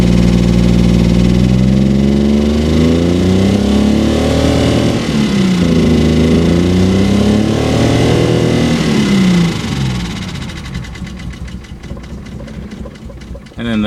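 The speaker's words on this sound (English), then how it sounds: "here's a picture of the engine while it's idling" A Nissan 280ZX engine idling shortly after a cold start, a steady, close, mid-pitched running note with a wavering, slightly uneven tone that roughens and drops in level toward the end.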